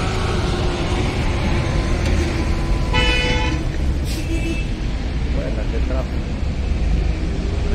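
Busy San Miguel street traffic heard near a gas station from a bus: a steady, loud engine rumble with a sharp car-horn blast in the middle and shorter honks later, and voices talking at times.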